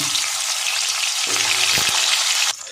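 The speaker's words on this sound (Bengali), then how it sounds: "ফুলকপিটাও আমি একটু লবণ দিয়েই ভাজবো" Cauliflower frying with salt in a hot pan gives a loud, continuous close sizzle with a couple of brief stirring knocks before it suddenly drops away at the end.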